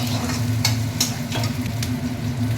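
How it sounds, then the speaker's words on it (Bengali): Garlic fries in a pan, a steady sizzle with faint crackles and a few brief spatula stirs or scrapes, close and fairly loud with no talking. "ভালো করে না ভাজলে এই রসুনটা গন্ধ বেরোবে কাঁচা, তাই হালকা হালকা একটু ব্রাউন ভাব এলে"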